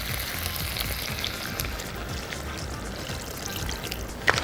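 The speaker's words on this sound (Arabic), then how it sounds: "انا مش هنزل مرقه كتير، هنزل حبه حبه اسوي فيهم الرز وازود تاني كل شويه." Hot broth pours in a steady, soft trickle into seafood and sausage paella rice, with faint sizzling under it and one brief clink near the end, close and without voices.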